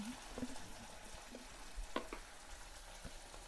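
Ridge gourd curry simmers in a pan with soft, steady sizzling and bubbling, a few faint clinks and scrapes rising briefly from the low cooking noise.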